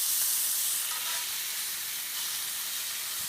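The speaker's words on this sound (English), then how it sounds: "I'm searing these at about medium high because you want a good quick sear" Rib eye steaks sear in a pan over medium-high heat, giving a steady, close, loud sizzle and hiss that runs unbroken from start to finish.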